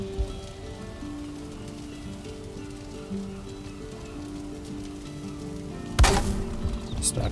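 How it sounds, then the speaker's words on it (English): Rain falls steadily in Valheim, a constant soft patter with faint low tones beneath, until a sudden louder crackling burst near the end. "it'll rain out our fire"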